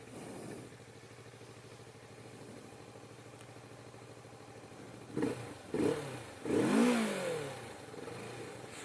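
A 2016 Kawasaki Vulcan S ABS motorcycle engine idles steadily and quietly, then gets three quick throttle blips that rise and fall, the last one the longest and loudest.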